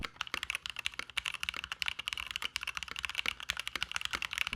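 A mechanical keyboard fitted with a tape mod under its board clacks in a quick, steady stream of muted, even keystrokes, close and alone with no talking.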